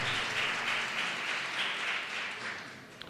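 A church congregation applauds in a steady, dense wash of clapping that holds through the whole moment and tapers slightly at the end.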